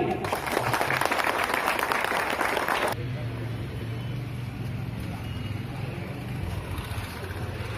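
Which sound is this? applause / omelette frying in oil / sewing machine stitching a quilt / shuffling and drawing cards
applause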